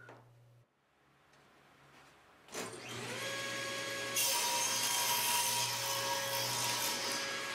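A wooden piece for a tenor guitar being cut to length by a power tool, which starts with a sharp attack after a quiet lead-in, then rises into a loud, steady whine and rushing cut, close and alone.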